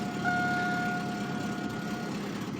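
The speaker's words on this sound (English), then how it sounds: "Ah, fires right up." An old purple car idles just after a cold start, with a steady low engine drone and a faint high whine running through it, alone with no talk.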